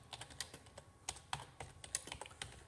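Steady, fairly quiet typing on a computer keyboard, a rapid irregular run of sharp key clicks heard close up with no talking.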